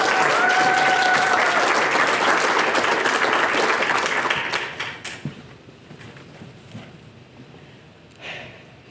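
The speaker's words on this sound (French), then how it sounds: "Merci d'applaudir Clara." A crowd applauds a young speaker taking the stage at a French public-speaking event, loud dense clapping for about four seconds that tapers off into scattered claps and near silence, with one brief late burst.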